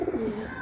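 A Kalduma pigeon gives a single short, soft coo close by, alone, with no talk.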